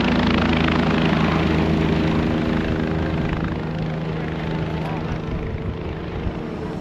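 Helicopter rotor and engine droning steadily at the main Kedarnath helipad, a loud continuous whir with low throb, easing slightly toward the end.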